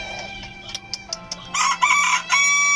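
A Brahma rooster crows loudly nearby in a couple of bursts, with a few short clucks before it.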